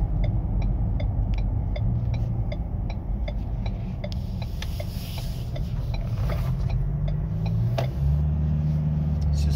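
A Ford 2-litre biturbo diesel car engine hums low and even at light throttle, with steady mechanical ticking on top and no one speaking.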